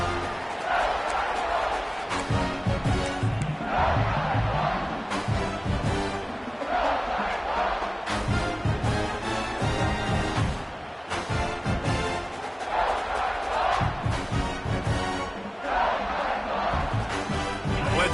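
Football stadium crowd around a kickoff, a broad continuous roar that swells and dips in waves for the whole stretch, with a broadcast voice talking over it.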